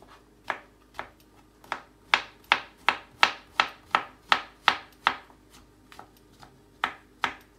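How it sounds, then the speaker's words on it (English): A knife chops a large mushroom into small cubes on a board: a steady run of crisp, close taps, about two per second, with no talk over them. "I like a little bit of mushroom, quite a big mushroom here again, so I'm just doing a small, again, cut nice and small"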